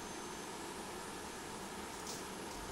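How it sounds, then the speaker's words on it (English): A BAE T1 Hawk jet engine spooled up in the MSFS flight simulator, giving a steady, dense whining roar that holds at an even loudness with no talk over it. "Outside and have a look, you see the engine spooled up."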